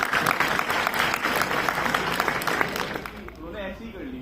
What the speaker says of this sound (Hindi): एक और बार तालियां।